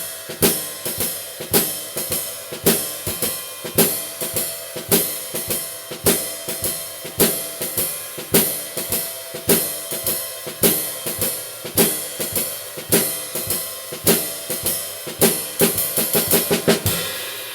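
A jazz drum kit plays a shuffle groove at a slow tempo, with strong, evenly spaced accented hits and lighter swung strokes between them, close and loud with no voices, building slightly toward the end.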